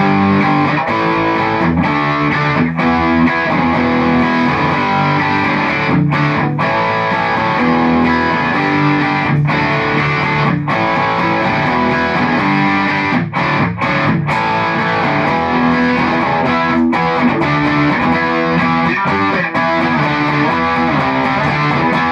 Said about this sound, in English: This is my distortion channel straight up. This is just the amp right now. No pedals on, nothing